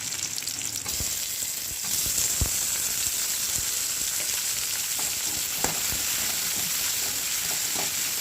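Onions and tomatoes sauté in a pan for a spicy-free okra pachadi, giving a steady broad sizzle with scattered scraping stir clicks, close and fairly loud with no talking.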